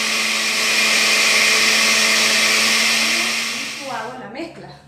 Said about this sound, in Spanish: Ahí dejamos licuar un ratito.